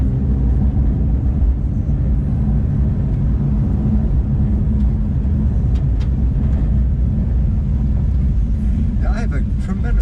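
A Porsche 911 GT3 with a manual gearbox drives through a tunnel, its engine and exhaust a loud, steady, deep drone that holds for the whole stretch.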